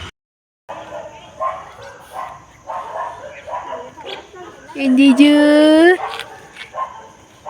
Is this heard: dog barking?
yes